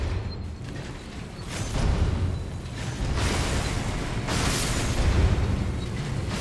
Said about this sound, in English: Holy explosions, Batman